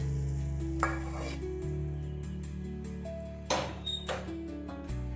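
Hot oil poured into rava chakli dough crackles and sizzles up close, with bursts of stirring and a couple of faint utensil clinks over a low steady hum, no voices.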